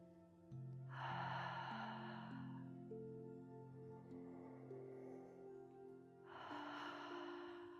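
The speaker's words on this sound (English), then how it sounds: "Let's bring our hands to heart center and take 3 deep breaths." Two deep breaths drawn and released during a calming yoga session, soft and close, heard over sustained ambient music pads.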